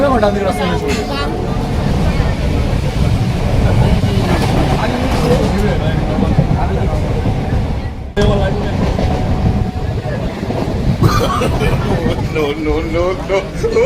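A crowded local train pulls away from Gangnapur station with a rumbling, rattling roar and a hum from the carriages, while passengers talk loudly over it.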